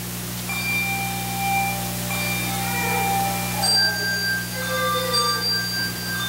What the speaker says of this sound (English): as we enjoy the Bell Choir offertory?